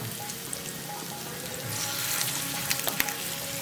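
Sesame vada coated in white sesame seeds, shallow fried in mustard oil: soft, continuous sizzling and bubbling with scattered small crackles and pops, fairly quiet and close, without speech.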